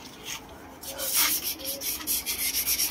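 Sandpaper rubs over body filler on a project car, first in soft scratchy passes, then in a quick rhythmic series of back-and-forth strokes, close and fairly loud.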